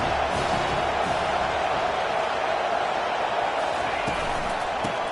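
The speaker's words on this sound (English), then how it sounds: "This crowd bringing the energy and noise early." A dense, steady roar of a large stadium crowd at an Oregon Ducks at Utah Utes football game, loud and continuous, with cheering blended into the wash of noise.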